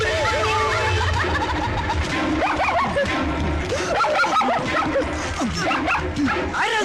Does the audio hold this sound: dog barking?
yes